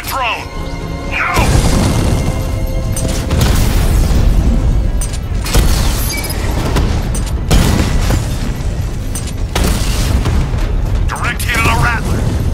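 In Batman: Arkham Knight, a direct hit on a Rattler tank sets off loud, deep explosive booms and metallic crashes in repeated bursts over roughly twelve seconds, with voices shouting through the chaos.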